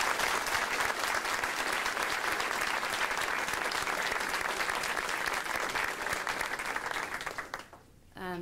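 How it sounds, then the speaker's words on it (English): Steady applause from a large audience at a university LGBTQ caucus event, dense clapping sustained for several seconds before tapering off toward the end. "just give a round of applause"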